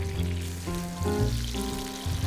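Copper River king salmon sears in a hot pan with a loud, close, continuous sizzle, heard alongside steady tonal background sounds and no talking.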